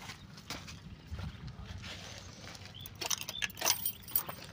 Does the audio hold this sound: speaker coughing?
no